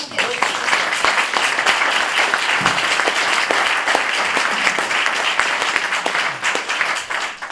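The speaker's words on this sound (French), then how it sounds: "Et j'apprécie vraiment votre applaudissement nourri" Sustained, hearty audience applause at a leadership programme launch event, loud and dense clapping that rolls on for several seconds with a few individual claps standing out and faint voices underneath.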